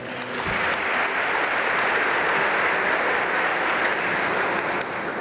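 A crowd at the 2017 Melhores Empresas corporate awards ceremony applauds a winning company, a loud, dense, sustained roar of clapping that holds steady and eases off slightly near the end.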